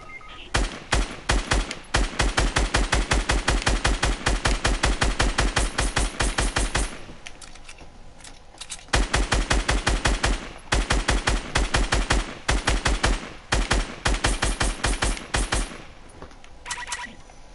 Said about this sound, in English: I've just heard gunfire